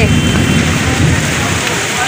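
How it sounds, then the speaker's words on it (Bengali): Heavy rain pours down steadily on a cloudy day, forming a loud, dense, unbroken wash of noise close by, with a low rumble beneath that may be thunder. "কি বৃষ্টি পড়ছে"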